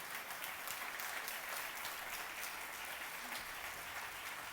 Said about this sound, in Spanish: Y dale al Señor el mejor aplauso de alabanza